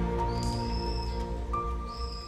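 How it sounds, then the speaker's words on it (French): Thin, high whistling bird calls of unfamiliar birds on Yakushima island, Japan, rise and hold briefly over a steady low background hum, a few separate calls at moderate distance. "c'est des bruits que j'ai jamais entendus. On n'a pas ce genre d'oiseaux."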